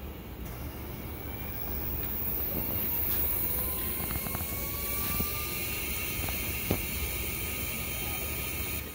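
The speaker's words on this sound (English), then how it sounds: "The motors kind of sound like jet engines warming up, which is kind of cool." A carbon fiber harmonic drive (strain wave) telescope mount slews under its motors, giving a steady whining, jet-like hum with rising tonal sweeps and a few faint clicks, close and continuous throughout.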